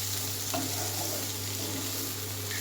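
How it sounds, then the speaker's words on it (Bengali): Methi greens and eggplant with roasted cumin powder are stirred in a hot pan, giving a steady close sizzle with a low constant hum and a few soft scraping stirs, with no voices. "জিরের গুঁড়োটা দিয়েও আমি কিন্তু ভালোভাবে একটু মিশিয়ে নেব দু থেকে তিন মিনিট কিন্তু একটু ভালোভাবে আর একটু নাড়াচাড়া করে নেব"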